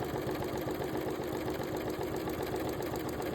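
A sewing machine stitching in the ditch along the strips of a quilted table runner, a steady rapid mechanical whir with an even needle rhythm, close and continuous.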